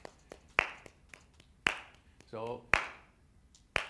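Sharp single hand claps, close and fairly faint, mark the beats of a medium-tempo song at a steady pulse, with brief speech between claps.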